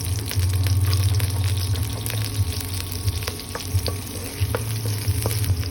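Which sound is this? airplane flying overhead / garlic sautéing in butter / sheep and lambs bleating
garlic sautéing in butter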